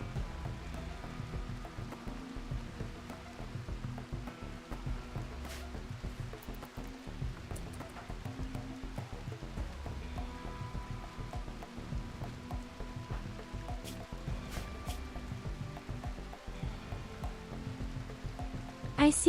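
Steady rain hiss in the RimWorld video game, a soft continuous patter with faint crackle running the whole time at moderate level, no voices over it.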